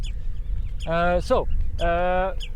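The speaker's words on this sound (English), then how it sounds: "The birds are getting crazy because of the dog, I think." Two loud, harmonic bird calls, honking or squawking bursts set off by a dog at Álftanes, Iceland, rise over a steady low background rumble, each lasting about half a second.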